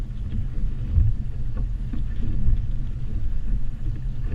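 Bass boat being loaded onto a trailer at Lake Fork in a crosswind: low rumbling engine and water churn under buffeting wind noise, continuous and fairly loud throughout.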